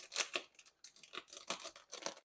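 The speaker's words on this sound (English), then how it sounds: "slice with an X onto the plastic with it opening with a sharp knife or scissors." A sharp knife slices an X into the plastic bag of a NorthSpore mushroom grow box, giving a series of close, crisp cutting and crinkling strokes in short bursts, with no talking.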